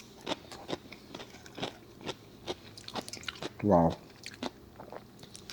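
Spicy Korean cucumber salad is bitten and chewed at a Gangnam restaurant, giving a series of crisp, close crunches between brief bits of talk.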